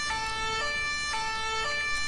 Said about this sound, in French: Moi j'ai l'alarme des pompiers là, de la police, ça me fait mal aux oreilles.